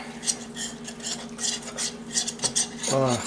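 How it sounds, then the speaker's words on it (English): Oil being stirred into self-rising yellow cornbread batter, a steady wet scraping and swishing of a spoon through the mix, close and moderately loud, with a low steady hum underneath. "I want to mix the oil up with the ingredients."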